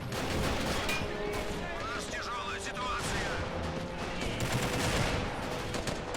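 FN-FAL rifle fire and artillery from a Men of War mountain battle mixing into a dense run of shots and booms, irregular and loud, with someone talking over the combat.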